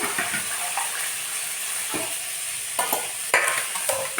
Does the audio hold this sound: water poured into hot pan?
yes